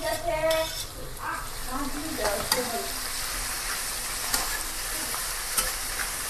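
Green chillies sizzle in a hot pan, a continuous frying hiss with scattered clinks and scrapes of a utensil. A brief voice is heard near the start.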